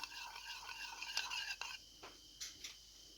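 A spoon mashes a spoonful of yogurt into lukewarm milk in a small bowl, giving soft, quiet scraping and clinking strokes with a few brief taps near the end.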